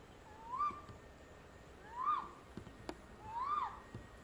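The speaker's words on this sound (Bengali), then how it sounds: "কি পাখি যেন ডাকে, দুঃখ পাখি না যেন সুখ পাখি যেটাই বলে এগুলো ডাকতেছে" A bird calls three times at night near a cremation ground under a banyan tree. Each call is a rising, whistled hoot, spaced about a second and a half apart, clear and moderately distant over a faint background hiss.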